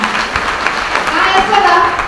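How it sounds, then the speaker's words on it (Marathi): An audience at a birthday gathering at a BJP office in Nashik claps in a dense, steady burst of applause that stays close and loud throughout, with voices mixed in. "टाळ्या वाजवा स्वतःसाठी टाळ्या"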